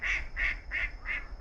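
A duck by the water at a Tokyo garden squawks in five evenly spaced, nasal quacks, loud and close, repeating in a steady rhythm over a low rumble of background noise.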